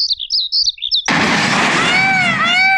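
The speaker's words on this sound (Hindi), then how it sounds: "तरह तरह के पक्षियों की आवाजें आ रही हैं।" Several kinds of birds chirp in quick, high, twittering bursts for about a second. A sudden loud, dense wash of other sound then swamps them.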